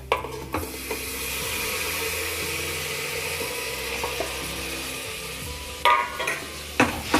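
Roughly chopped tomatoes added to spiced masala in a pan for paneer masala, giving a steady sizzle with stirring scrapes and a few louder clatters of a spoon against the pan near the end.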